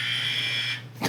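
A producer's buzzer blares loudly and steadily, a harsh electronic tone held close for nearly a second before it cuts off, followed by a short thump.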